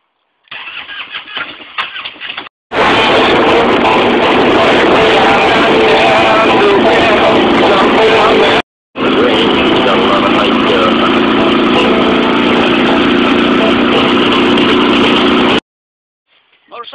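An old motorcycle engine cranks briefly, then catches and runs loudly with a steady, throaty idle, cutting out for a moment before running again.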